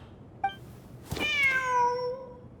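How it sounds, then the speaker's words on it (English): A cat meows in the video game Genshin Impact: a short chirp, then one clear, drawn-out meow that rises and falls, close and loud with no talking. "Wait, there it is! The cat!"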